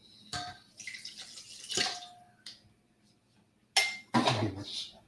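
A cup of water is poured into an Instant Pot while shoyu chicken is being made: a few brief, quiet splashes and clinks separated by short silences.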